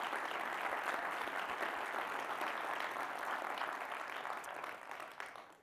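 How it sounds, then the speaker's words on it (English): Warm, sustained applause from a gala audience for a West African dance troupe, a dense steady wash of many hands clapping that holds evenly before easing off slightly near the end. "I would love to get another warm round of applause for Jamana Kura"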